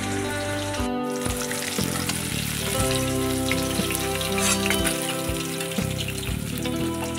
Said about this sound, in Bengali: এবার মাছগুলো ভাজা হয়ে গেছে